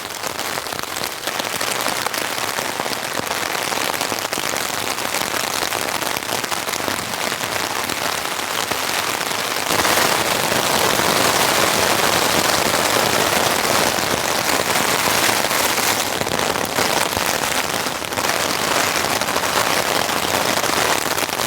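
Heavy rain pours down at a campsite, a dense, loud hiss of drops drumming on surfaces that swells heavier midway and stays constant throughout.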